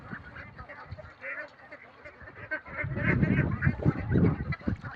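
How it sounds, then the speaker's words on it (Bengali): Farm ducks quack and honk in a busy chorus, nearby and fairly loud, growing denser in the second half over a background murmur. "এই যে আমাদের হাঁসগুলো দেখুন ভালোভাবে"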